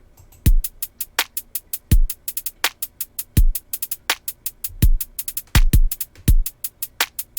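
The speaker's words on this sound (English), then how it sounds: "This is real simple drum pattern." Simple MPC drum pattern built from UK dance samples, punchy low kicks with busy, crisp hi-hat hits in a steady looping groove, clean and unaccompanied.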